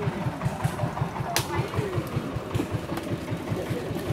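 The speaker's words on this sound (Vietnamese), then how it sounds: "Vỏ máy thì cái máy là động cơ diesel các bạn." The diesel engine of a small Vietnamese motor boat runs at a steady idle, a close, rhythmic low chugging of regular pulses with a brief sharp knock in the middle.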